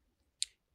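A single crisp snip of a Texan York nut sheller cracking a nut, one short sharp click in otherwise near silence.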